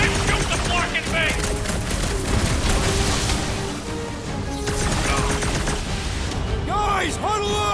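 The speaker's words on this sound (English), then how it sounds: "Okay, shoot the clamps!" Sustained bursts of gunfire as the heroes shoot at clamps during a spaceship battle in the Guardians of the Galaxy video game, dense and loud beneath game voices and music, with electronic zaps near the end.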